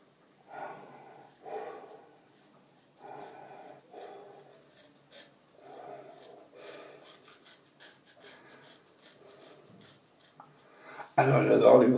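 Straight razor stropped on a pasted leather strop, a series of soft rasping strokes in an uneven rhythm, close and fairly quiet, followed by a sudden louder burst of noise at the end.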